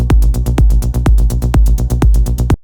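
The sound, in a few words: rolling synth bass recreation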